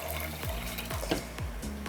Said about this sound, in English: So in goes some cold water